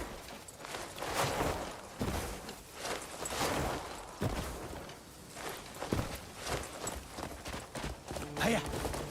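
Horse hooves thud and clop in Crimson Desert, uneven steps and short runs heard close and moderately loud over soft game ambience.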